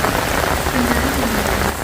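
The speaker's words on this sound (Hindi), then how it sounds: "नीचे तो पजामा पूरा भीगने लगा है, इतना तेज़ बारिश हो गया।" Heavy rain pours steadily at an ancient Hindu temple complex in Indonesia, a dense, loud hiss of drops striking surfaces without a break, close by, with a brief faint voice underneath.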